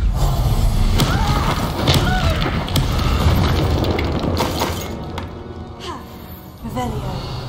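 Expulso blasting-spell explosions in Hogwarts Legacy go off as repeated booming thuds with shattering, crashing debris, loud and close over a busy combat soundscape, while a voice speaks throughout.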